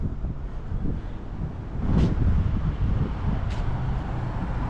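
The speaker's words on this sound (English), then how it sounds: "It's a little breezy this afternoon here in Asheville" Gusty afternoon wind outdoors in Asheville, in the mountains of North Carolina, buffeting the microphone with a steady low rumble that swells around the middle, with faint traffic-like noise beneath and no talking.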